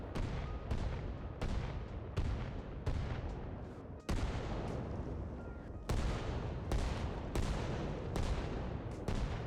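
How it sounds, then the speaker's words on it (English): Mortar barrage in the video game Arma Reforger: a relentless run of loud, heavy shell impacts and booms, roughly every second, rolling into one another with rumbling tails. "They can select individual mortar shells or massive large barrages like this."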